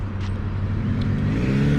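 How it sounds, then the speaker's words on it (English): Street traffic passes in downtown Johnson City, Tennessee, with a car engine rumbling close and loud, steady over the short stretch. "Quite a bit of traffic here."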